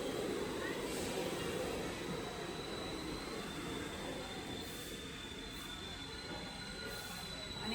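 A New York City subway train rumbles along the rails with a high metallic squeal of wheels, the roar steady and close as it slows to a stop.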